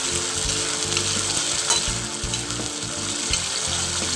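Steady, crackling sizzle of ginger garlic paste frying in hot oil for soy sauce chicken, continuous and close, with faint stirring scrapes.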